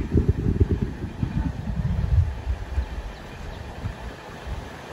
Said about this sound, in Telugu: ఇది మన క్రూజింగ్ స్పీడ్, మన intercity super fast memo train the